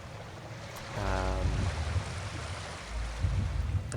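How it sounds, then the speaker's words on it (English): Lapping water ambience in the Arcanum role-playing game, a steady wash of waves with a louder surge partway through, continuous and moderately loud with no talk over it. "Let's go and turn the water noises off for now while we dump off a few things."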